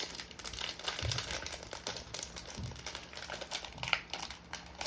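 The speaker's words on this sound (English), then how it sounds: "Open the bags." Close, crisp crinkling of plastic parts bags from a toy building kit being handled and pulled open, with irregular rustles and a few sharper crackles over about five seconds.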